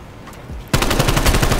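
Automatic gunfire in Call of Duty Cold War erupts after a quiet moment, a rapid, loud, close burst of evenly spaced shots lasting about a second.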